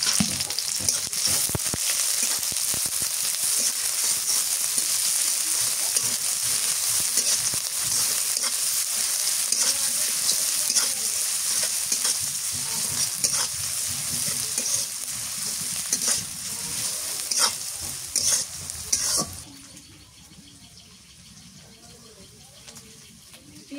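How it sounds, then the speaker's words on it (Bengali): Sliced onion and green chili fry in a pan with a loud, steady sizzle and repeated scraping stirs for about nineteen seconds, then the sound drops to a faint hiss. "পেঁয়াজ মরিচ ভাজা হয়ে গেছে"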